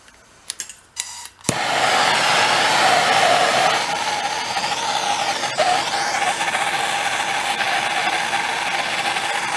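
A heat gun switches on with a sharp onset and then blows steadily and loudly, warming a part clamped in a vise on an old 1931 Ford barn-find project; the airflow continues unbroken throughout.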